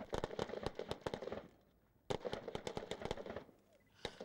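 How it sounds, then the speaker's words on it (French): Live-fire gunfire from a Malian army special forces unit drilling a response to an ambush: rapid, fairly distant volleys of sharp cracks in two bursts with a short pause between. "C'est un exercice à balles réelles"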